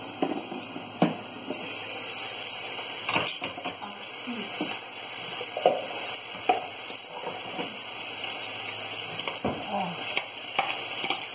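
Onions sizzle steadily in a hot pan, a continuous crackling fry punctuated by occasional scrapes and clinks of a utensil stirring.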